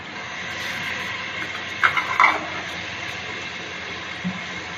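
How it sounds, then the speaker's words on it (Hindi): Whole spices (black peppercorns, bay leaves and green cardamom) roasting in a hot pan for black masoor dal biryani, giving a steady sizzling hiss with a few brief crackles, close and even. "इसको डाल के हम भूनेंगे मसाले को"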